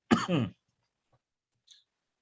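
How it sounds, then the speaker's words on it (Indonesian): A single close cough, two quick bursts, followed by silence and a faint click. "batuk-batuk."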